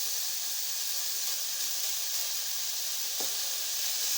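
Oil sizzling and hissing in a pan for dry-frying pork, a steady, even hiss held throughout at close range, with one small clink partway through.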